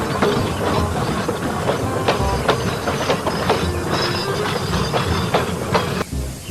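Rail wagons are shunted through a yard, giving a continuous clattering rumble with repeated metallic clanks and knocks. A hiss runs underneath, and the noise drops away near the end.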